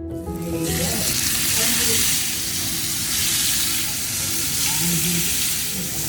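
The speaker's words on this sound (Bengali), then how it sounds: "মাছগুলো ভালো করে ভেজে নিয়ে তারপর মাছের ঝোল বানাবো" Pieces of rohu fish frying in oil in a pan, a loud continuous close sizzle that holds steady throughout with no talking.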